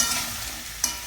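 Potatoes frying with turmeric in a pan are stirred briefly, a soft steady sizzle with two short scraping clicks near the end, close and alone.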